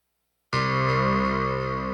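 Sustained guitar synth tone with the tremolo switched off, a steady, even note that starts abruptly and holds at constant loudness for two seconds, alone with no talking.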